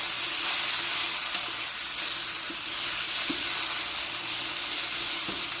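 Pre-marinated tequila lime chicken pieces fry in a pan with a loud, even sizzle, broken by a few soft clicks of stirring, no voices.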